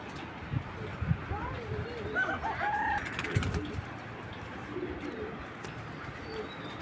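A foreign black checker racing pigeon, a male, coos in a few soft, low rolling phrases close by, with someone talking over it and a brief flutter of wings.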